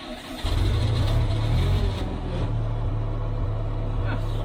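An M501 Hawk-Loader's engine cranks and catches, then settles into a loud, deep, rumbling idle close by that runs steadily to the end.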